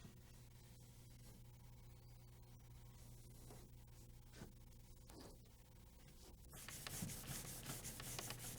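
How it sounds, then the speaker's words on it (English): Body panels being sanded by hand with 400 grit and then 600 wet-and-dry sandpaper before painting, a steady close rubbing scrape running throughout with a low hum underneath, growing louder and brighter near the end. "Final sanding body panels should include sanding with 400 grit sandpaper and then lightly with 600 wet and dry paper"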